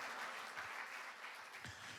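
A church congregation at a Pentecost celebration applauds, a continuous, fairly faint wash of many hands clapping together, heard from a distance without any clear voices over it.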